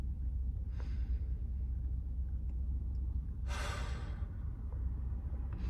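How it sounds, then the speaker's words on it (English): One person takes a slow, deep breath: a short airy breath comes first, then a long, fuller inhale-exhale a few seconds later over a low, steady background rumble. "Don't forget to take a deep breath with me. One more."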